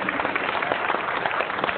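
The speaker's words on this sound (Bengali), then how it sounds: "একটা হাততালি হয়ে যাক এই বিশেষ মানুষটির জন্য।" Audience applause at an award ceremony, a dense continuous patter of clapping from a crowd, steady and fairly loud throughout the short burst.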